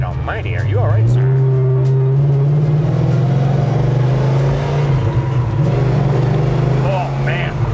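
A red 1972 Pontiac GTO with a 400 engine accelerates hard, its deep steady engine drone holding loud and close while people talk over it.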